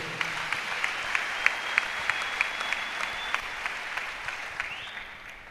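A church congregation applauds steadily, with many close hand claps in a continuous rhythmic patter that fades toward the end, while a faint tone runs underneath.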